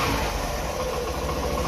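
A Hero Passion Pro motorcycle engine idles steadily with a throttle-body ECM complaint, a close, continuous low drone and rumble with no talk over it.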